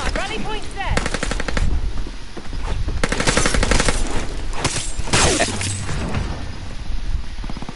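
Rapid machine-gun bursts and single gunshots in a PS4 battle royale shooter game, loud and repeated in several volleys, with a teammate's voice talking faintly underneath.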